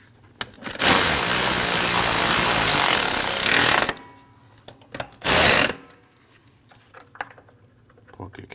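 Bolts on a Jeep Cherokee radiator cooling fan assembly are tightened in two loud mechanical whirring bursts, one long and one short, with quieter clicks and brief speech between them.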